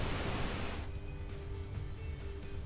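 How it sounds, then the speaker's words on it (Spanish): Pink noise test signal generated on channel 24 of an Allen & Heath mixing console: a steady, even hiss across the spectrum that cuts off abruptly after under a second, leaving a faint, quiet background. "Ruido rosa, perfecto."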